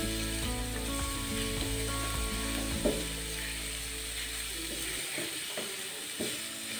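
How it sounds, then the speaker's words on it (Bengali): Pumpkin pieces fry in a pan with a steady dense sizzle, while occasional scraping and stirring clatter cuts through close by. "ভালো করে ভেজে নিতে হবে, কাঁচা কুমড়োর গন্ধটা যেন না থাকে।"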